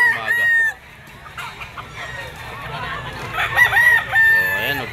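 Chickens and roosters at an outdoor pet market in Grotto: loud, close crowing and clucking from several birds overlapping, with faint voices in the background.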